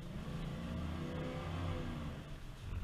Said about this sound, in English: Really nice sound of V8.